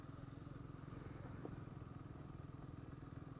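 A Scrambler motorcycle ridden off-road across a festival campsite, a steady low pulsing engine drone throughout, heard from the rider's position with constant wind rumble and no talk.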